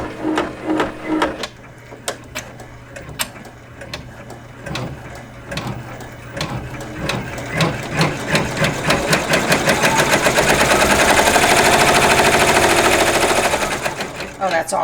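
An embroidery machine stitches a placement line on a Calico Garden Forget Me Not quilt block, a rapid mechanical needle clatter that quickens and grows louder and steadier toward the end, with brief pauses early on.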